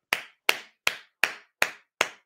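Six crisp hand claps in a slow, even rhythm, close and distinct with silence between each.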